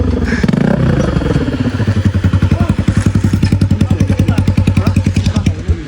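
A motorcycle engine runs loud and close, its exhaust pulsing in a fast, even rhythm of thumps that holds steady throughout, with a brief rougher patch at the start.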